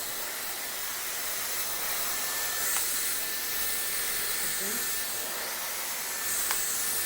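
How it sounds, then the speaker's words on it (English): A hair dryer blows with a steady, loud airy hiss that runs continuously, with a faint soft voice briefly underneath. "So I'm going to take this dryer through it first."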